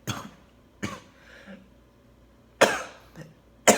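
Coughing from a man smoking, several harsh bursts spread out with quiet pauses, fairly close and loud, with no talk over them.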